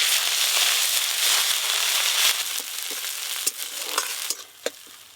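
Dried red chilies, whole garam masala and turmeric sizzle in fish oil in a wok, making a loud, steady frying hiss that fades a little toward the end and is broken by a few sharp pops.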